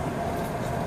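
A passenger train runs steadily, with a continuous broadband rumble and rail noise heard from on board.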